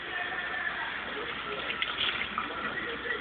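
Running water rinses out the cavity of a field-dressed grouse, a steady close gush like a tap flowing without a break.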